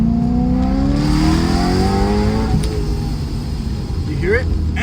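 A supercharged BMW M3 engine revs up loud and close in first gear, the pitch climbing steadily then dropping as the throttle is released, with a whining supercharger spool over a rough exhaust drone.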